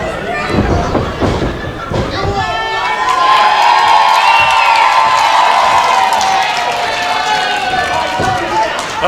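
A wrestling crowd at a PCW event roars and cheers loudly for the tag team OC/AC, a dense sustained swell of shouts and whoops with a rising, steady din.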